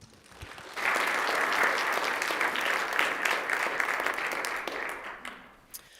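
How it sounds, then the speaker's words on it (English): Applause from the assembly floor for Ms. Christina Kleist during a legislative session, a dense, steady roll of many hands that swells in after a quiet start, holds loud for several seconds, then tapers off. "let's give Ms. Christina Kleist a round of applause."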